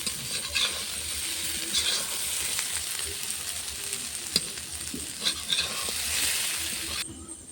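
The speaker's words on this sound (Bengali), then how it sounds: "সেই আলুগুলো দিয়ে এই মাছগুলো আমি ভাজা করব" Fish frying in a pan with small, lightly pre-fried potatoes in a small home kitchen: a continuous close sizzle with occasional metallic clinks and scraping.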